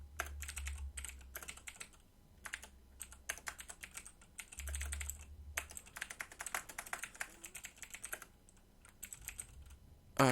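Rapid typing of C# code on a computer keyboard, bursts of close, crisp key clicks with short pauses between runs, no voices.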